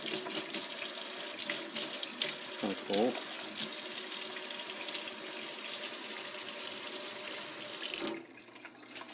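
Water runs steadily from a tap in a broad, hissing stream, close and fairly quiet, cutting off near the end, with a brief spoken remark over it.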